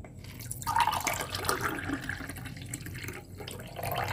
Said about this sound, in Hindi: अब इसको हम लोग छन्नी की मदद से छान लेंगे।